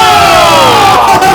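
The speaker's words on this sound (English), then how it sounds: "I can't believe we're cheering to a draw" A crowd of tabletop players cheers and whoops loudly over the final dice roll of a large Warhammer 40k Apocalypse game between Orks and Eldar, a brief burst of excited voices.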